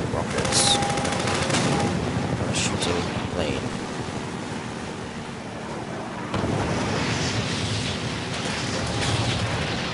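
Rocket blasts and rapid gunfire from a Half-Life 2 firefight, dense and loud throughout with bursts of shots over rumbling explosions and wind-like noise, no talking.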